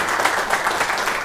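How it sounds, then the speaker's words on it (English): Children clap together in a room, a brief, lively burst of scattered applause heard close and alone. "Yeah, you can clap."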